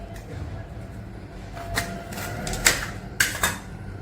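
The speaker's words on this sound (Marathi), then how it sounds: "आता ही जी छोटी मिरची आहे ही अशी कापायची" A kitchen knife cuts small green lavangi chilies for a pickle. A few sharp, light taps come through, mostly in the second half, over a steady low background hum.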